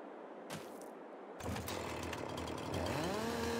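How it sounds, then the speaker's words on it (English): A chainsaw in the farming video game Farming Simulator 22 starts up after a couple of thuds, settling into a steady buzzing idle that rises slightly in pitch, loud and alone without talk. "I'm gonna hand you my chainsaw."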